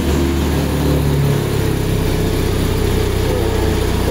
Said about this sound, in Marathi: आता आपली बाईक सुरू झाली आहे